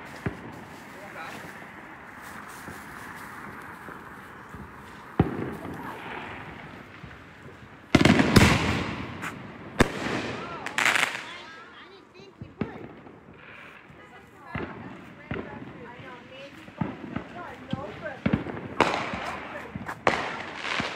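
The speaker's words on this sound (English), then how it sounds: "Staten Island fireworks for the new year." New Year fireworks on Staten Island pop and boom at irregular intervals, some sharp and loud, others distant, with a few voices talking in between.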